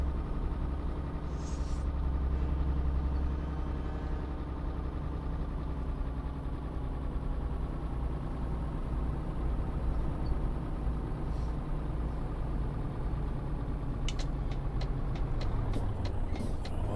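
A truck and trailer in a trucking video game rumbles at a steady idle for a long stretch, its low engine drone constant and close, with faint reversing beeps and clicks near the end as it manoeuvres.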